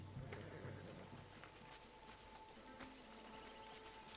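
Quiet video-game horse hooves clip-clop at a steady pace in the distance in Assassin's Creed Odyssey, over a soft ambient background with occasional faint chirps.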